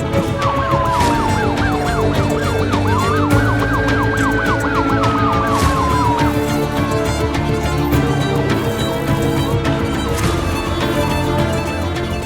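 An ambulance siren wails, rising and falling over a dense, loud background of dramatic music and traffic noise.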